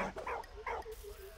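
A dog in the video game Valiant Hearts: The Great War gives a few quick, faint barks and yips in a short burst.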